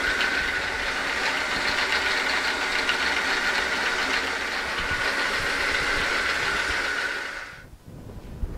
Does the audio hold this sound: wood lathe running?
yes